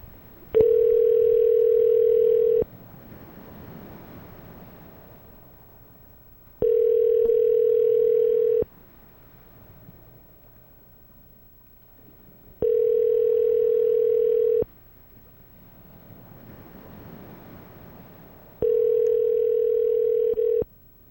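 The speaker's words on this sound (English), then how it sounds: "Call Freddy the producer, see if he got his phone" Telephone dial tone sounding while a call is placed: four steady, loud tone bursts of about two seconds each, evenly spaced with quiet gaps between them, alone with no talking.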